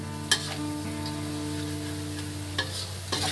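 Bean sprouts and tofu stir-fry with celery and carrot stirred in a pan, a steady low sizzle running throughout with a few sharp scrapes and clinks of the utensil against the pan.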